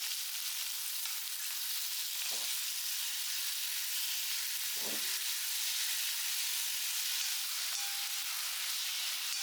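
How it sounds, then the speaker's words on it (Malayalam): Onion and green chili sauté in hot coconut oil with a loud, steady sizzling hiss that runs throughout, broken only by a couple of brief low knocks from the pan or spoon. "വെളിച്ചെണ്ണയൊക്കെ പറന്നത് ചൂടായ ശേഷം ഈ ഉള്ളി പച്ചമുളകും വഴറ്റിയെടുക്കാം"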